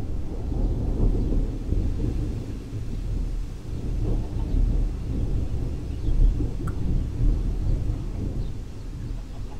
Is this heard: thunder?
yes